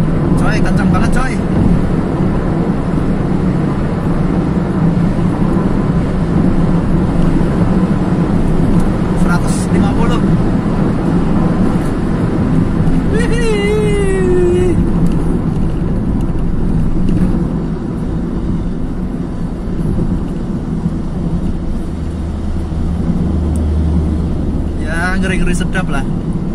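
An automatic Honda Jazz RS GK5 drives fast along a toll road, its loud, steady cabin roar of engine and road noise running throughout while people talk over it.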